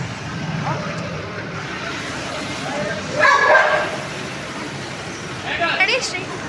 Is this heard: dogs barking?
yes